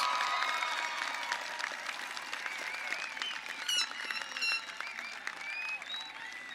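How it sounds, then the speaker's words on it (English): At a high school graduation ceremony, families applaud the graduates with a wash of clapping and scattered cheers and whistles, moderately distant and slowly tapering. "How about a round of applause for all of our graduates?"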